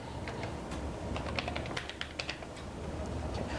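Keys clack on an Amiga computer keyboard used like a typewriter, an irregular burst of close, crisp taps over a low background hum, with no talking.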